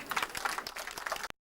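Audience at a 1989 French village harvest festival, the Fête des battages, applauding in a brief burst of scattered hand claps that cuts off abruptly.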